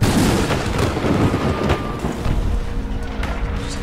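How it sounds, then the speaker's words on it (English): Artillery shells striking in a zombie video game, a heavy, rumbling barrage of deep booms rolling continuously, loud and close, with little else over it. "But artillery striking them"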